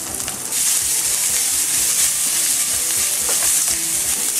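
Tofu frying at medium heat in a pan, a loud steady sizzle with rhythmic scraping strokes of stirring running through, close up and with no talking.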